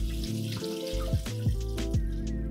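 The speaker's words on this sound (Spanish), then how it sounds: "Lo vamos a pasar con un colador y le vamos a poner el agua muy fría" Cold tap water runs steadily over blanched cabbage in a colander for curtido, a close, continuous splashing stream with a few brief knocks, no voices.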